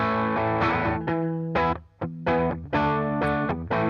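Electric guitar driven through a Tube Screamer into a Rat distortion pedal, thick, saturated notes and chord stabs played in choppy bursts with brief gaps between them, and no talking.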